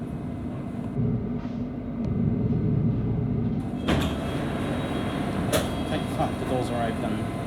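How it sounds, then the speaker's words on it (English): London Underground Hammersmith & City Line train at Liverpool Street station, doors sliding open with a sharp mechanical thud and hiss over a steady low rumble of the idling train, followed by platform ambience and faint chimes. "The doors are open. This is Liverpool Street."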